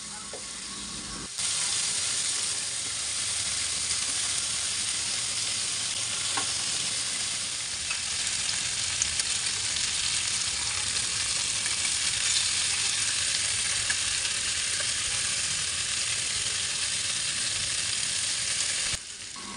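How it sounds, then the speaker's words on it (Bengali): Chicken pieces sizzling loudly in an already oiled wok, a dense steady hiss of frying with occasional stirring scrapes, continuous and close, with no talking. "এখন আমি সবগুলো চিকেন এখানে দিয়ে দিচ্ছি।"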